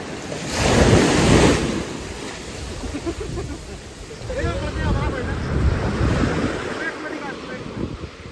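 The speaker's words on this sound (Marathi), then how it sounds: "बघू शकता किती मोठ्या लाटा आहे इथं." Big ocean waves break and wash at Vayangan beach near Ratnagiri, a loud roaring surge with heavy wind buffeting the microphone.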